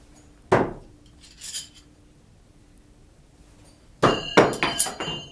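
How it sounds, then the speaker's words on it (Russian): Bastard throwing knives thrown with a single rotation from 5 meters strike a target: one sharp thunk early, a fainter knock, then a cluster of several metallic impacts and clinks near the end, with quiet gaps between. "В один оборот бросаю ножи Бастард с 5 метров."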